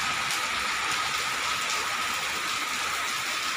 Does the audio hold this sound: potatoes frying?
no